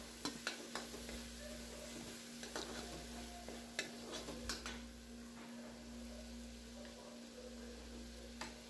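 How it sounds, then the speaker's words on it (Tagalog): Pork sautéing in a pan for a pechay stir-fry gives a soft, steady sizzle, quiet and close, broken by light scraping and clicking of a utensil stirring against the pan. "Okay, gisado na itong yahalo ko na itong pork."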